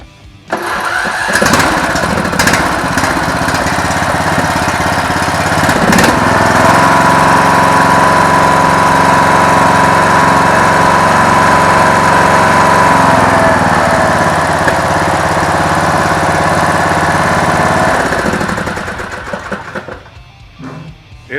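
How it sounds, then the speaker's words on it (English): An Ariens riding lawn mower engine cranks briefly and starts, then runs steadily at a loud, close, constant idle for most of the time before fading out near the end, with no talk over it. "The machine starts up, it runs good. Here, I'll start it up for y'all."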